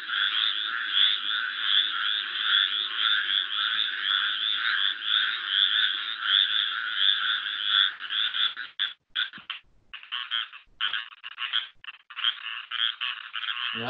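A dense frog chorus with a duck-like, low-pitched quality, recorded in North Carolina. Overlapping croaks form a steady, loud wall of sound that breaks apart into scattered individual calls near the end.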